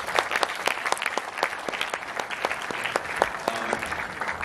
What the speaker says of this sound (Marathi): सर्वप्रथम तुम्हासाठी स्वतःसाठी टाळ्या मला एकदा ऐकायच्या